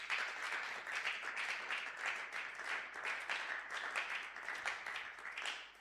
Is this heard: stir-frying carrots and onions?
no